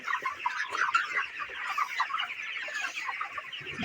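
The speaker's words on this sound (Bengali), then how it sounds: "ব্রয়লার মুরগির" Broiler chickens about thirty days old clucking continuously inside a poultry shed, a dense, close chorus of overlapping calls with no talk.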